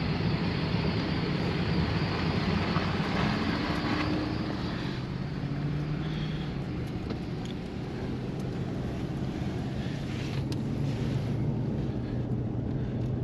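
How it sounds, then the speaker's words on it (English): An old oilfield pump station from a 1915 field runs outdoors with big exhausts, giving off a loud, steady low rumble and drone that holds unbroken throughout, with some wind noise. "That's that pump station going."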